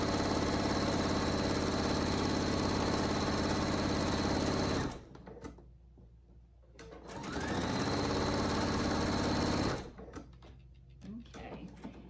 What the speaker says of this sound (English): And then start stitching, back stitch, and then stitch all the way down.